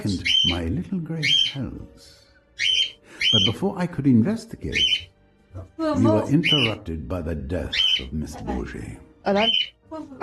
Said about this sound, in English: I am sorry about the birds.